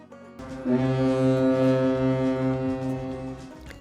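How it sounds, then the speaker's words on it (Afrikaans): A pleasure boat's deep, loud horn blast sounds alone, a single sustained tonal honk lasting about three seconds before cutting off. "'n Plesierboot."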